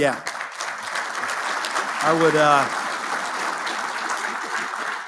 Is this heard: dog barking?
no